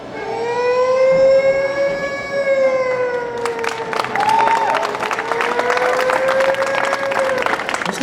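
A single voice mimics a police pilot car siren leading a minister's convoy, a loud, wavering wail that rises and falls steadily for several seconds, performed on stage at a college youth festival with crowd noise and applause swelling behind it.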